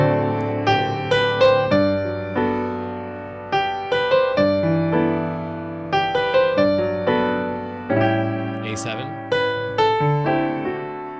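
Piano or keyboard chords of the gospel tune When the Saints, reharmonized with dominant seventh chords, played alone in a steady, moderate rhythm with ringing sustained harmonies.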